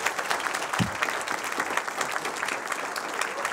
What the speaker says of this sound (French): On peut t'applaudir bien fort.